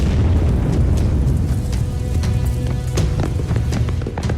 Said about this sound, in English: An explosion near the southeast corner.